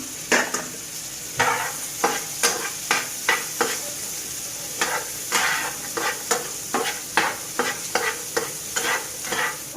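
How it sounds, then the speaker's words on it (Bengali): Green capsicum and chopped carrot frying in a pan, a constant low sizzle broken by repeated rhythmic stirring scrapes and taps of a spatula against the pan. "তিরিশ সেকেন্ডের মতো আমি একটু ভেজে নেব, বেশি ভাজা যাবে না"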